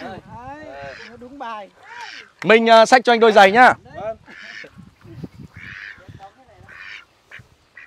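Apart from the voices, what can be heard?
ducks quacking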